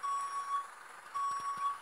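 A truck's reversing alarm in a construction simulator game, two clear runs of steady electronic beeps near and loud, with faint low thumps between them.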